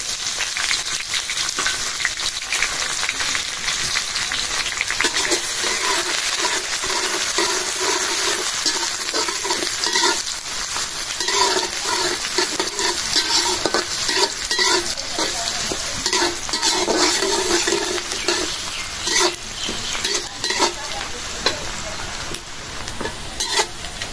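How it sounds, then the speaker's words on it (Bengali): Onion, garlic and green chili frying in hot oil give a continuous close sizzle, with frequent scraping stirs breaking through it throughout and no talking. "পেঁয়াজটা ভাজা হয়ে গেছে"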